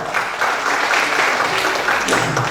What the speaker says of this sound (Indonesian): Untuk itu teman-teman kita sambut dengan tepuk tangan Pak Dimarwoto.